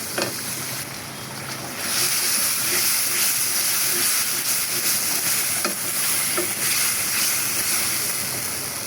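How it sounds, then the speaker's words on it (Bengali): Jackfruit seeds frying in a pan with chopped garlic, a steady hissing sizzle throughout with occasional scrapes of a spoon stirring, close and fairly loud, no voices. "এবার দিয়ে দিলাম হচ্ছে কাঁঠালের বিচিগুলা, কিছুক্ষণ ঢেকে কাঁঠালের বিচিগুলোকে একটু কষাবো।"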